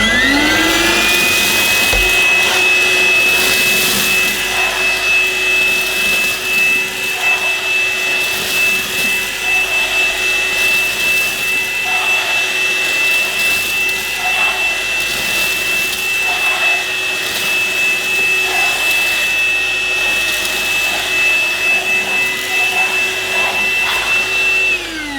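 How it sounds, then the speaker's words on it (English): An Easine Ilife H55 cordless vacuum cleaner whirs at a steady, loud pitch as it sucks up porridge oats from a kitchen worktop, running continuously close by with no talk. "So I did say we'd give the vacuum a go."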